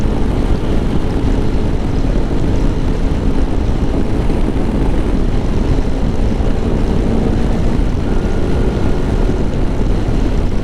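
A 2024 Lifan KPX 250 dual-sport motorcycle is ridden on a cold day, its engine a steady droning hum under loud, constant wind buffeting with no break.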